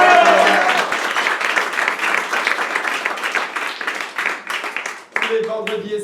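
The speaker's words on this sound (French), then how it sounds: "Fallait les applaudir, c'était le moment." Audience applause at an improv comedy show, a dense wash of clapping that fills the room and gradually thins, with a host's voice cutting in near the end.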